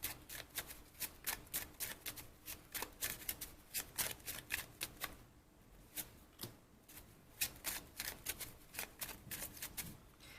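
Tarot cards are shuffled close up in quick, crisp riffling bursts of papery flicks and snaps, with one brief lull midway before the shuffling resumes.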